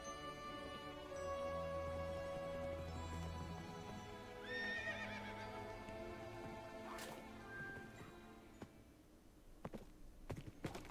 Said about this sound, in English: Let's take this horse.